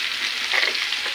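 Elephant apple pickle cooking on low heat in a pan while it is stirred, heard as a brief, steady, close frying sizzle with a soft scrape partway through.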